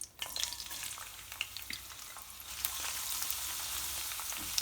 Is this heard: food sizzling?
yes